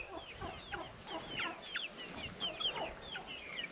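Several Coucou hens crossed with Marans clucking and chattering in a warm henhouse, a busy run of short overlapping clucks and squawks at moderate distance, no voices.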